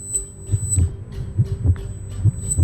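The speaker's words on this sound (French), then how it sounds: "des battements de cœur et des bruits suraigus" A deep, thumping heartbeat sound effect pulses in a regular double-beat rhythm, loud and close, over a low droning hum in a sports-themed scene, with no one talking.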